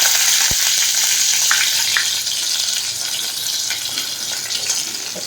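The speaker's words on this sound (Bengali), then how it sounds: "তেল গরম হয়ে গেছে, এর মধ্যে আমি ছোটো চামচের 1 চামচ কালো জিরা ফোড়ন দিয়ে দিলাম।" Nigella seeds and a green chili hit hot oil for tempering, a steady bright sizzle and crackle filling the whole stretch, close and fairly loud, with a couple of faint clicks and no talking.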